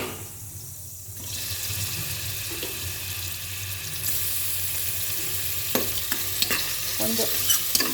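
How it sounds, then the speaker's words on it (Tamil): Chopped onions fry in hot oil inside a pressure cooker, giving a steady loud sizzle that swells after the first second, with scraping stir strokes and occasional clinks from a utensil against the pot. "ஆயில் காஞ்சதும் கொஞ்சம் அந்த நறுக்கி வச்ச பல்லாரியை போட்டு"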